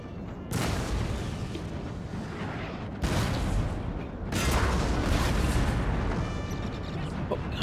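Cannon fire on a Napoleon: Total War battlefield, with three heavy booms each trailing into a rumbling roar over continuous battle noise.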